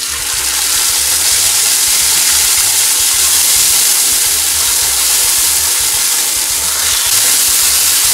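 A corn tortilla dipped in adobo hisses and sizzles steadily in a hot frying pan, loud and close with no break.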